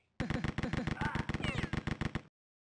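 Gunfire in the Rise of the Triad video game: a rapid burst of about twenty evenly spaced, loud automatic shots lasting two seconds that ends abruptly, with a voice briefly heard beneath it.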